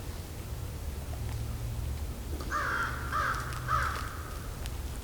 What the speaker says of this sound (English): There goes the crows. These are American crows.